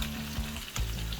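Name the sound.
cabbage stir frying in a pan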